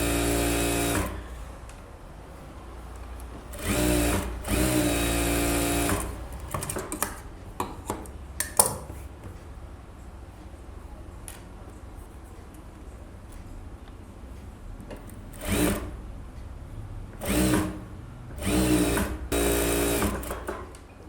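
A sewing machine runs edge stitching along a blouse lining in several short bursts of rapid mechanical whirring, separated by pauses filled with faint handling clicks and rustles, close and without speech.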